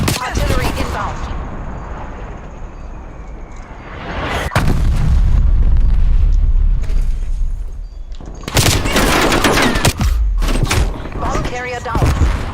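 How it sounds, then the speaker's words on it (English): Incoming artillery barrage in a video game: heavy booms and explosions roll in, building into a long rumbling roar, followed by more sharp blasts and crackling debris, loud and close with game voice callouts mixed in. "Artillery inbound."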